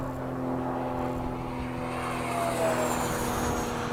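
An Eflite 80mm F/A-18D RC jet flies by with a steady, loud electric ducted-fan whine and rushing hum, holding level throughout with a slight swell near the end, no talking.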